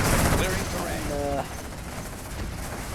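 Gunfire rakes tanks in C&C Generals, with a clipped burst of rapid shots and a brief whining tone over a busy battle backdrop; the fire stops abruptly and leaves only a low rumble.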